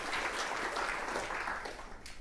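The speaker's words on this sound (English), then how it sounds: "Everybody, round of applause." A university lecture audience applauds the course teaching assistants in a Stanford classroom, a dense wash of clapping that runs steadily and then thins toward the end.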